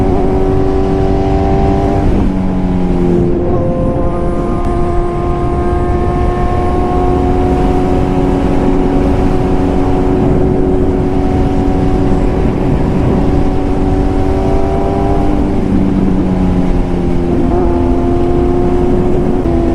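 Motorcycle engine revving loudly and close, holding a steady buzzing tone with repeated shifts in pitch as the throttle rises and eases, continuous and without any talking.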